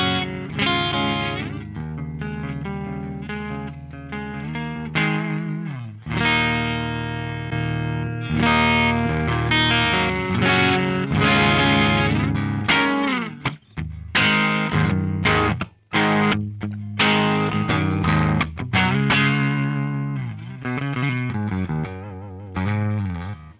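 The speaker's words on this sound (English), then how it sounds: "With the orange and the red mode, we're just getting a little bit more gain out of these respective sounds." Electric guitar through a Marshall JVM410HJS amp in its orange and red gain modes, driven and distorted chords and riffs played loud and continuous with brief stops, no voices.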